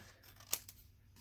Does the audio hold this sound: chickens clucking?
no